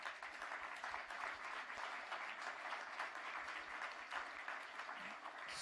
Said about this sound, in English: So I think we can applaud them all.